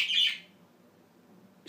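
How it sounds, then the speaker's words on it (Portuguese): A small bird outdoors in the Algarve gives one short, bright chirp near the start, followed by quiet background and a faint second note at the very end. "Os passarinhos estão todos contentes. Eles sabem que estou a fazer vídeo e estão a cantar todos contentes da vida."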